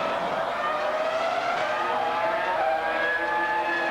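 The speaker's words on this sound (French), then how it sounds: "Michael Schumacher qui rentre dans la pit lane et qui va ravitailler" A Formula 1 car driven by Michael Schumacher at the 2004 US Grand Prix, entering the pit lane to refuel, gives a steady high engine whine with shifting pitch, continuous and fairly loud against crowd and track ambience.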